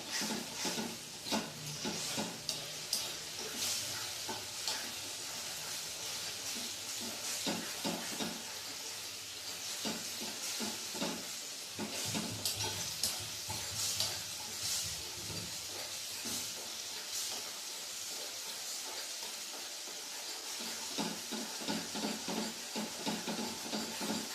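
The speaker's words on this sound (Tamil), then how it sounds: "நல்லா அது வெந்து நல்லா கெட்டியாக பேஸ்ட் பதம் வரமுட்டும் நம்ம இதை கிளப்பிக்கிட்டே இருக்கணும்" A thick herbal paste being stirred as it cooks down in a pan, giving a continuous soft hiss and sizzle with scraping stir strokes throughout, fairly faint and without talk.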